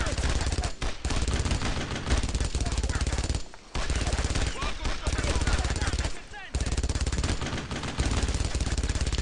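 Rapid machine-gun and rifle fire from the World War II shooter Brothers in Arms: Road to Hill 30, dense bursts rattling almost continuously with two short lulls, loud and close, over a busy battle din.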